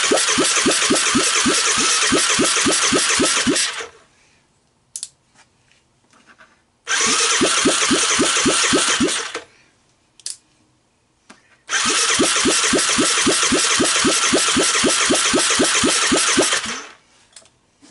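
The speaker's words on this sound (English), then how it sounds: "I think a little more throttle, and she's gonna start" Honda ATC 250ES motor being cranked by its starter in three long bursts, a rhythmic, loud whirring churn that cuts off abruptly each time with brief quiet gaps between attempts, and no clear catch into steady running.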